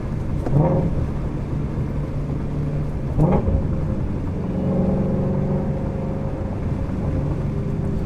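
A Mustang GT350 engine rumbles from inside the cabin as it downshifts approaching a roundabout, with two sharp rev blips followed by a steadier, rising engine drone.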